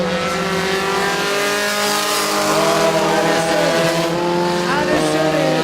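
Race cars roar around a stock car track, their engines loud and continuous, with rising and falling whines as cars pass and tires squeal at close range.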